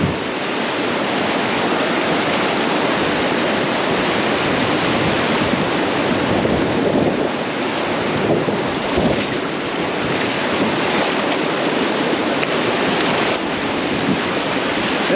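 Rushing river water on the Arkansas River, with rapids and a waterfall surging over rocks around a small boat, loud and continuous throughout with wind buffeting the microphone.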